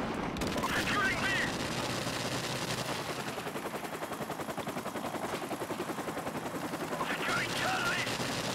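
Machine-gun fire in multiplayer Call of Duty 4: Modern Warfare Remastered, long sustained rapid bursts with dense rhythmic crackle, loud and close, with game voice callouts and a player talking over it.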